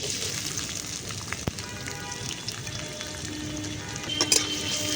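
Chopped onions frying in white oil in a kadai: a dense, even crackling sizzle like light rain throughout, fairly close, with a brief louder spatter near the end.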